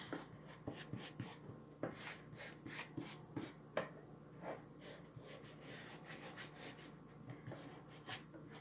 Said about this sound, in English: I'm just going to smooth this on.